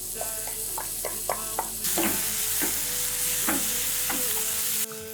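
Vegetables with garlic are stir-fried in a pan, loud sizzling with repeated scraping stirs, then a sudden burst of hissing steam when liquid hits the hot pan, which cuts off near the end.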